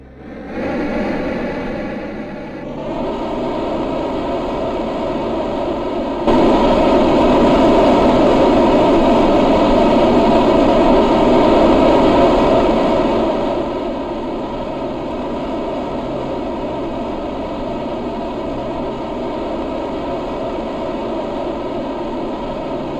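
Rocket engines fire in a video game, a loud, steady broadband roar that swells to a heavier blast for several seconds before settling back to a sustained rumble, with no talking over it.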